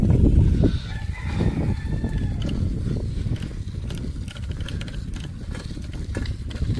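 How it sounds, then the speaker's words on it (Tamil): Chickens clucking with a rooster crowing among them, a busy flock close by with steady scratchy background noise throughout. "நிறையா கோழி இருக்குங்க."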